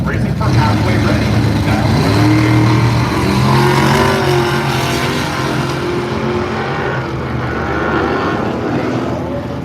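Mustang club race cars at Firebird Raceway in Boise, Idaho roar and rev continuously while a loudspeaker announcer talks over the engine noise throughout.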